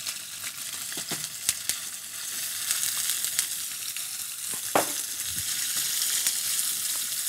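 Food fries and sizzles in a pan, a loud, steady crackling hiss broken by occasional sharper pops and stirring clicks, with no talking.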